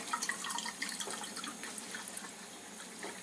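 Water pours steadily from a Kangen K8 ionizer into a glass, a faint continuous splashing trickle with small drips and bubbling, heard close and alone.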